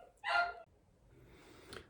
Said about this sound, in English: yet another interruption by little dogs